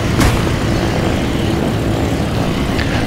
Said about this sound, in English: Right now, I'm just using the power of the rotors to propel myself forward